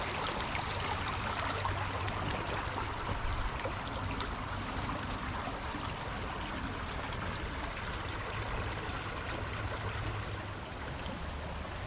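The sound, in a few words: creek water flowing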